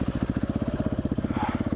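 Motorcycle engine while riding, a close, steady rapid chugging pulse of firing strokes with an even, unbroken rhythm throughout.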